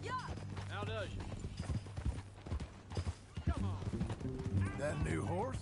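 Horse hooves clip-clop at a quick pace in Red Dead Redemption 2, moderately loud and steady beneath frequent character dialogue, with brief horse snorts mixed in.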